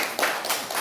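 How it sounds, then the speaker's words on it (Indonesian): A group of pupils claps together for group 3 during a classroom group activity, in a few quick bursts of hand claps over a brief moment. "Tepuk tangan dulu."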